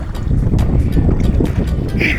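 Stepping into a speedboat at the edge of Diabari Lake: close rustling, thumps and water sloshing under gusts of wind buffeting the microphone, with no clear speech.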